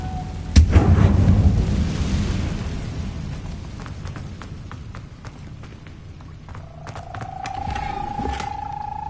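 Incendio fire spell cast in Hogwarts Legacy: a sudden loud whooshing burst followed by a crackling, rumbling roar that fades, then a sustained magical tone rising near the end.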